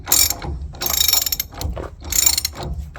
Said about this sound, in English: I'm going to tighten up the nut against the piston right now.